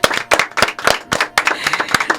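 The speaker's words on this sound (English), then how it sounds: "how about a round of applause for Listen Locally" Brisk, close clapping from a small group of hands, sharp irregular claps spread across the whole moment, applauding Listen Locally, presenter of Overtones Live, at a Josie Music Awards preview radio show.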